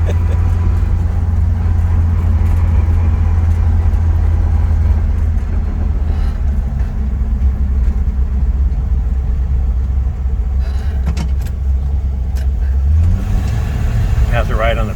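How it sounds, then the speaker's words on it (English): Engine of a 1967 Ford Mustang fastback with a four-speed, steady low rumble on a street test drive, continuous and close throughout, with people talking over it. "Going for a test drive."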